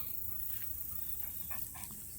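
A dog sitting on a rock beside a trench being dug, panting in quick soft breaths, close and faint under a steady background hiss.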